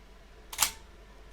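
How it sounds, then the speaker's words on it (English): A Konica Autoreflex T3 SLR fires its shutter once, a sharp, close, fairly loud mechanical clack in an otherwise quiet room, with the start of a second click right at the end. "I think you might want to hear the shutter on this one too"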